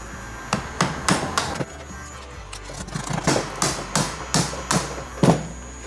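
Sharp hammer blows strike metal in an irregular series, about a dozen loud clanks with short pauses, close by over a low background hum.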